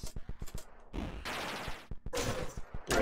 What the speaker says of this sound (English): I can shoot someone, I can gun them down.